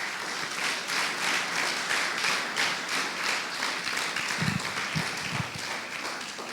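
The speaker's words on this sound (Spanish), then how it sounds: "Dar un aplauso al que vive" A church congregation applauds during a sermon with steady, rhythmic clapping at moderate volume, and a few louder, nearer claps stand out toward the end.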